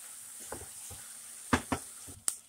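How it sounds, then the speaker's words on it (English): A carrot and potato soup mixture is stirred in a pot as it cooks, giving a few close, scattered scrapes and clinks of a utensil over a soft, steady simmer. "So I'm mixing my mixture, and now I'm gonna make it cook for about 5 minutes"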